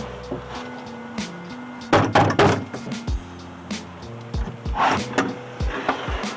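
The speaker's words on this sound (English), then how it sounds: "Should I just knock? I guess so." Knocking on a door in a horror-themed game setting, with several sharp wooden knocks in short clusters alongside other thuds and creaks, loud and close, with music playing underneath.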